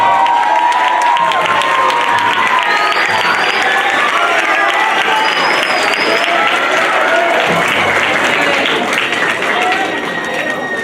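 Sustained applause from a school audience at a middle school spring band concert award presentation, dense steady clapping with scattered cheers and crowd noise, loud and continuous throughout before easing slightly at the end.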